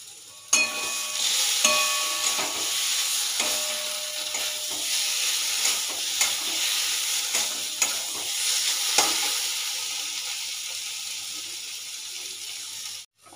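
Ridge gourd peel paste fries in a pan while being stirred until its water dries off, a steady watery sizzle close up, punctuated by recurring scrapes and knocks of a spatula against the pan, with no one talking.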